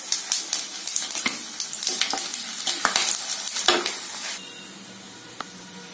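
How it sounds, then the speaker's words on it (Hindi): Whole spices (bay leaves, cumin, fennel, cloves, red chilli and cardamom) fry in hot oil for a mutton curry, giving a steady crackling sizzle with stirring clicks that fades to a quieter hiss near the end. "सारी चीजें फ्राई हो गई है"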